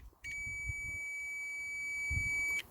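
A multimeter gives a continuity beep on the glow plug wiring of a Land Rover Defender 300TDI: one steady, clear tone lasting about two and a half seconds, close and loud over a quiet room.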